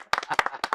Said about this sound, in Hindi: तो हो जाए इस बात पर तालियां ना।